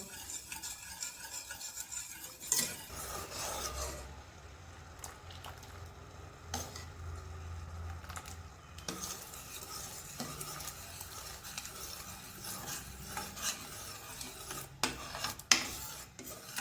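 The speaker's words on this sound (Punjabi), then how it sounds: "ਇਦਾਂ ਹੀ ਆਪਾਂ ਇਹਨੂੰ ਲਗਾਤਾਰ ਚਲਾਉਂਦੇ ਰਹਿਣਾ ਵਾ ਤਾਂ ਕਿ ਜਿਹੜਾ ਆਪਣਾ ਕੋਕੋ ਪਾਊਡਰ ਥੱਲੇ ਨਾ ਚਿਪਕੇ" Cocoa powder being stirred into chocolate syrup in a pan, a steady scraping and rubbing of a spoon against the pan bottom with a soft sizzle, continuous and close, with occasional louder knocks and no talking.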